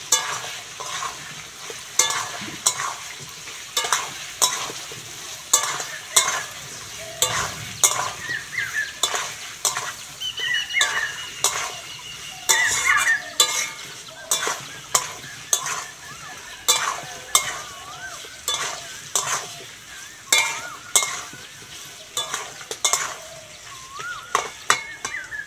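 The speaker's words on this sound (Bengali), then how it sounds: "এবার মশলাগুলো ভালো করে কষে নেব।" Spice paste of ground ginger, cumin, turmeric and chilli powder being stir-fried in a pan for a vegetarian Bengali dish, with a steady sizzle and repeated scraping and clinking of a spatula against the pan in a regular rhythm, no talk.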